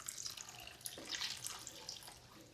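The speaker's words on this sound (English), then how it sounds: "now we're going to put some beef broth in" Beef broth poured into a pan of paleo beef stroganoff, a soft, steady liquid splash and trickle at moderate loudness with no talk over it.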